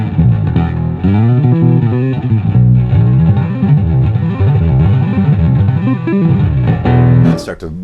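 Bass guitar played through an EBS Billy Sheehan Signature Drive pedal with compression engaged, a loud, sustained distorted tone with clean low end blended in, notes rolling continuously for several seconds before a brief burst near the end.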